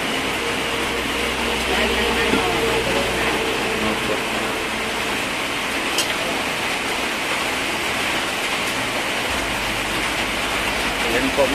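Heavy rain falling steadily as a broad, loud, continuous hiss with no breaks, near and enveloping, with faint background sounds mixed into the downpour.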